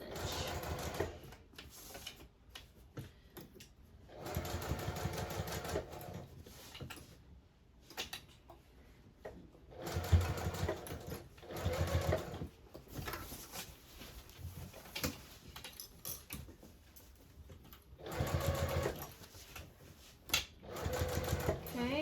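A sewing machine back stitching a seam on a Pelican tote bag with a zipper top, running in close, loud bursts of rapid stitching separated by short pauses, with a voice speaking softly at times.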